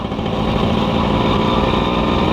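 Loud, close drone of a Suzuki Crystal, a small-cc two-stroke motorcycle, running steadily while riding, with a buzzing, even engine note and no voices.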